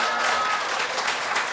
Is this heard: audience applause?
yes